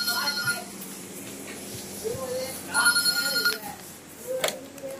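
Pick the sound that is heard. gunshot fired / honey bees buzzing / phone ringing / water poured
phone ringing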